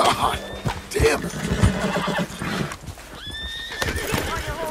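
A horse whinnies loudly in Red Dead Redemption 2, then hooves clop along with galloping rhythm; a second neigh rises near the end, with game-like background noise and a voice briefly heard.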